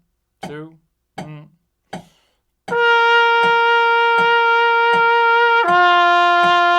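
Trumpet playing exercise number 16 at 80 beats per minute, long sustained notes with a pitch change near the end, loud and alone, with a steady metronome click underneath, preceded by a few short spoken count-in words.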